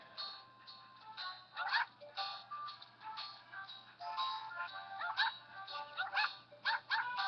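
A small dog in Nintendogs barks and yips repeatedly in quick bursts, slightly tinny and band-limited like game audio, with no talking.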